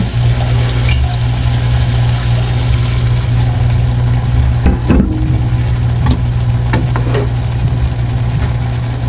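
Broth poured into a pan of bitter gourd cooking with chicken liver, a continuous loud pouring and sizzling wash over a steady low hum, with a few clattering knocks midway.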